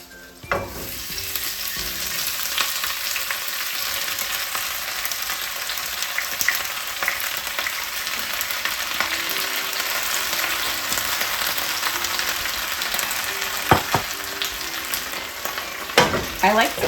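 Fresh spinach frying in a coated pan with half a teaspoon of sesame seed oil, a continuous crackling sizzle with occasional stirring scrapes and sharper pops toward the end.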